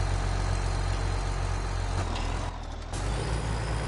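A truck in Farming Simulator 17 public works idles high with a constant low rumble, heard up close and alone, and a short hiss of air cuts in briefly partway through.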